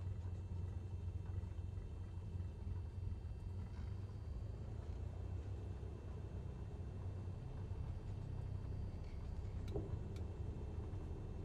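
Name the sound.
airplane braking and rolling on runway after landing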